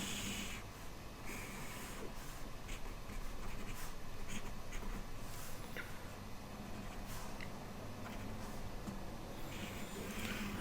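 A pen or stylus scratches steadily across a drawing surface in a quiet room, sketching a diagram in a series of faint, continuous strokes with brief pauses.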